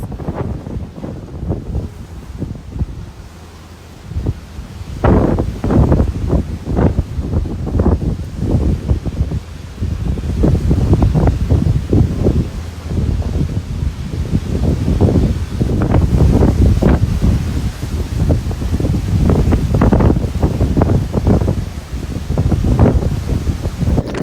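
Hurricane Idalia winds at Cedar Key buffet the microphone in loud gusting bursts, mixed with the rush of waves breaking on the shore, continuous and close with no voices.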